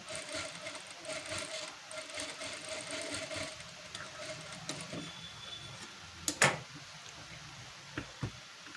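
A sewing machine stitches the neckline of a blouse, a steady mechanical whirr that runs continuously for several seconds, then drops to quieter handling with a couple of sharp clicks near the end.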